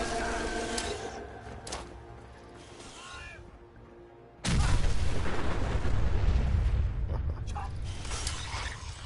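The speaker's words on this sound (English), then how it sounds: "I need to get up on the roof and let him have a nuka grenade." A nuka grenade goes off in the video game Fallout: after quiet mechanical clicks and creaks, a sudden loud blast hits midway and leaves a long, rumbling roar that fills the rest of the clip.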